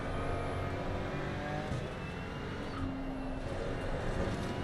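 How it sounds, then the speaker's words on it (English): Race car engine in a sim racing game straining and sputtering at low revs after losing traction, a steady rough drone with uneven revving, close and continuous with no talk. "You could almost hear the car trying not to stall as well."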